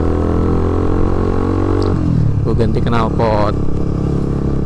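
A Suzuki GSX-R150 motorcycle with an aftermarket R9 exhaust idles with a deep, throaty exhaust rumble, steady and close, while someone talks over it.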